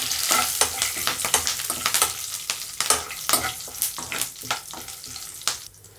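Chana dal, mustard seeds, cumin and curry leaves crackle and sizzle in hot oil, a dense close frying hiss studded with sharp pops and quick stirring scrapes throughout, with no speech.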